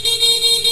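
A P-horn on a motorcycle's full night-ranger setup gives a short, steady, loud honk, one sustained blast close by with no pause.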